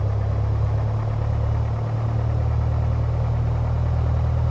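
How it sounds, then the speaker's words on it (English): A PA-28 Warrior II piston engine idling in a flight simulator, a steady low droning hum with even, constant vibration and no talk. "we should see the engine idling around 500 to 700 RPM"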